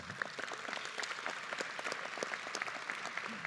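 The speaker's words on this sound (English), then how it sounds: "Let's give all of our platform guests a big round of applause." Audience at a university Indigenous graduation celebration applauds the platform guests, a steady, dense round of clapping from a large crowd that holds at even strength throughout, with no talking over it.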